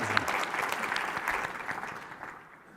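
A round of audience applause at an education conference, fairly steady clapping that gradually fades out toward the end.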